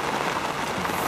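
Steady rain falling on a fishing spot, heard as a continuous dense patter with a soft hiss, fairly close and even throughout, with no voices.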